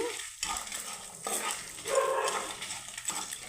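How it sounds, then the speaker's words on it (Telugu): Cumin seeds and a pinch of asafoetida fry in hot oil for sambar and chutney, giving a faint, soft sizzle with light clinks close by. "నూనెలో వేద్దాం జీలకర్ర కొంచెం ఇంగు అండి"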